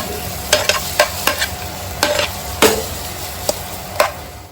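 Paneer cubes, lightly salted, sizzle in a hot pan while being tossed and stirred, with a steady frying hiss broken by a series of sharp clacks and scrapes.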